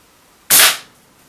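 A single shot from a Contender single-shot pistol in .3 calibre, one sharp loud crack close by that fades quickly, with no other sounds around it.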